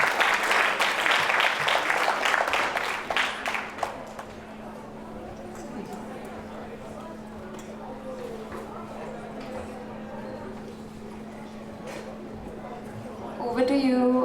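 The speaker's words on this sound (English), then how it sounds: "Please give a big round of applause for the judges" Applause for the judges at a pitch competition: a dense burst of clapping for about four seconds that fades out, then quieter room sound with a steady hum and a few faint sounds.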